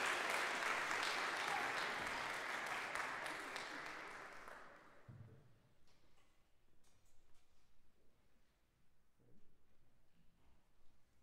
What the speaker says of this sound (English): go ahead and clap, because they need a break anyway.